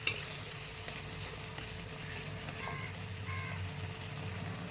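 Mustard paste cooking in a pan with tomatoes, salt and turmeric, a soft, steady sizzle and faint bubbling heard up close, with occasional light scraping as it is stirred.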